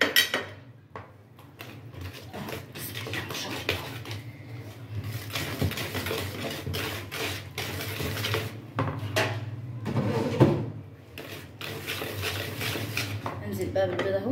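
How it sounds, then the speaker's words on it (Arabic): Cake batter of ghee and sugar is beaten by hand with a whisk in a bowl, a steady run of close, brisk scraping and tapping strokes against the bowl, with a voice talking over part of it. "كله بالمضرب اليدوي اهو، سهل خالص"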